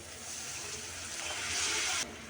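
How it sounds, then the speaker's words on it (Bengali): A little water is poured into a pan of frying chilli, cumin and coriander powders, producing a quiet rushing splash and hiss that builds, then cuts off sharply after about two seconds. "মশলাগুলো পুরো যাবে তাই দিয়ে দিচ্ছি একটু পানি"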